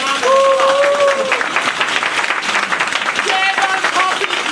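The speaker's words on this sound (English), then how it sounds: "Give him a round of applause." An audience at a Toastmasters district champion's night claps in a lively burst of applause, dense and close, with voices calling out over the clapping at the start and again near the end.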